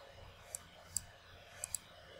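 Four quiet, sharp computer mouse clicks, two spaced apart and then a quick pair, sound over faint background hiss.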